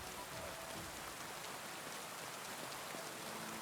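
Heavy pouring rain in Kingdom Come: Deliverance II, a dense steady hiss of downpour drumming on surfaces, close and unbroken throughout with no voices.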